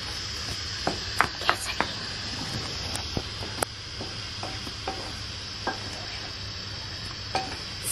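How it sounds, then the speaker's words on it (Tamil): A spoon stirs rava kesari, a semolina sweet cooked with oil and ghee in a pan. Scattered scrapes and clinks ring out over a soft, steady sizzling hiss at moderate volume. "கட்டியாக இருக்கும் போது நீங்கள் நல்லா கிளறி விட்டுக்கோங்க"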